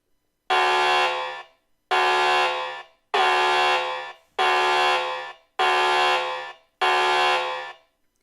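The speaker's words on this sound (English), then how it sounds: "Let's test out the sound the alarm feature." Toucan outdoor security camera's siren alarm blaring in six loud, harsh buzzing blasts, each about a second long and separated by short gaps, close and with no voices.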